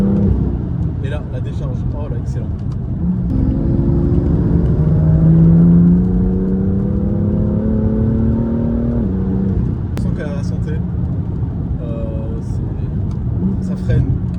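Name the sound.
BMW M2 LCI car driving, DKG gearbox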